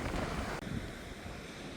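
Sea surf washes along the shore at dawn in Fontanka in a continuous broadband rush, mixed with breezy wind noise on the microphone and no voices.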